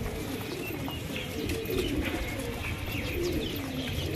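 Pigeons cooing on a neighbourhood rooftop in Taunsa Sharif, a steady low murmur of coos with occasional chirps, close and continuous with no talk.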